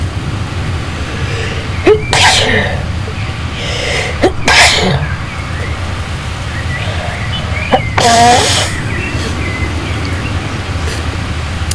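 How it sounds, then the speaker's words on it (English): Several loud, sharp sneezes burst out close by, spaced apart over a steady background hum. "No, not a third sneeze."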